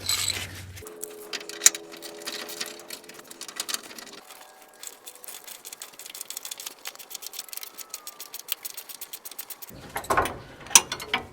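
Ratchet wrench working a rusty stabilizer link nut on a GM SUV rear suspension: rapid close ratcheting clicks with a brief squeal of the rusted threads, then metallic clatter toward the end.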